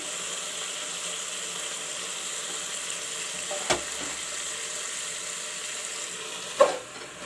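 Spinach (palak) sizzles in browned masala in a pan, a steady soft frying hiss throughout with two brief clinks of a utensil, and no talking.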